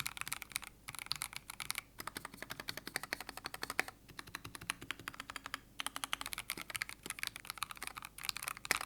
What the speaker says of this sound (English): We've got cool colorways, comfortable and great texture keycaps, latest Gatoron switches with proper lube, and a hot swap board with silicone dampening that sounds way above its class.